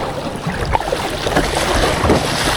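Strong wind during kayak fishing buffets the microphone with a continuous loud rumbling roar, gusting unevenly with no voices.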